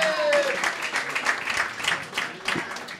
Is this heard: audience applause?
yes